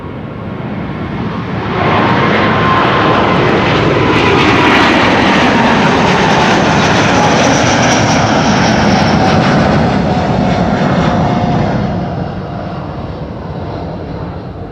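A Delta Airlines jet takes off from Schiphol's runway 24, a loud close roar surging in after a couple of seconds, holding a strong rumbling blast with engine whine, then dropping back to a softer drone.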